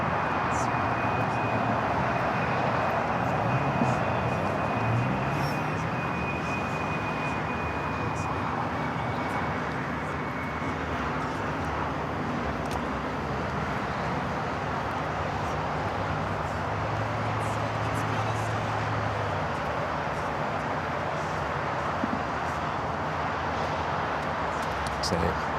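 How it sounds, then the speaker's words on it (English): An Airbus A350 takes off from the north side of LAX with a steady, broad jet roar held at a fairly constant level for the full stretch, plus a thin high whine early on. "A350 taking off on the north side."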